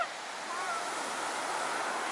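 Sea surf on a wide beach at low tide rolls in as a steady, broad wash of waves, fairly close and continuous, with faint wind.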